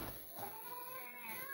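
A cat gives a faint, drawn-out meow in a quiet indoor room, with a soft wavering tone under light background hiss and no talk.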